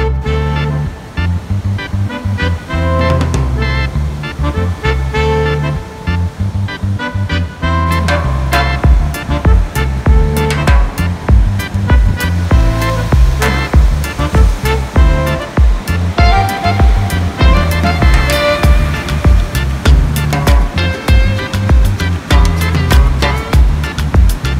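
Ocean waves breaking on the shore at Nunggalan beach in Uluwatu, Bali, a steady loud wash of surf with repeated surges, heard alone without talk.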